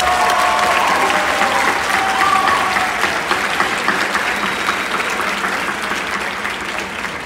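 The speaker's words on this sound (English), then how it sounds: "can we please give a huge round of applause to our biggest supporters?" A graduation crowd at a high school commencement claps in sustained, dense applause that fills the hall, holding steady and then easing slightly toward the end.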